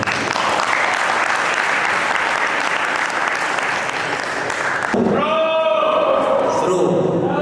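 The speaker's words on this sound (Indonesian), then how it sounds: "mari kita beri aplaus kepada" An audience claps loudly and steadily after a school debate, a dense close burst of applause that gives way to a speaking voice over fading claps.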